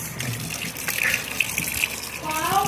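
Kitchen sink tap runs while catfish is washed and rubbed clean, a continuous close splashing gush with small surges and no talk over it.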